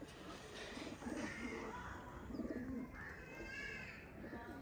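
A Billa pigeon coos in soft, repeated throaty phrases, fairly close but quiet, over a faint background hiss.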